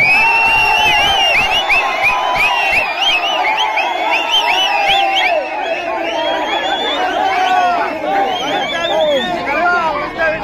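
A crowd at Vijayabaskar's election campaign rally in Viralimalai cheers enthusiastically: loud, continuous, overlapping shouts, whoops and excited chatter from many voices close by.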